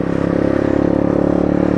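A Sinnis Apache motorcycle engine fitted with a big exhaust idles close by in a loud, steady rapid thrum, with even pulses and a slightly rattling edge, and no voices.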